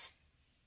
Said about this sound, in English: Spray on my hair, kind of gives me a shine to it